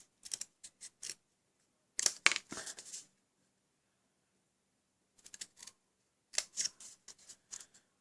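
Scissors snip through card stock for a handmade card in short crisp bursts, a few quick cuts, a longer cluster, a pause, then more snips, close and dry against near silence.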